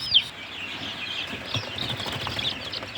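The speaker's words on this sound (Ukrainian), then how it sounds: "А тут у нас курчата напівників від Дмитра Дмитрука." High-pitched cheeping from a group of eight-day-old chicks chirps continuously over a steady, noisy background, with no talking.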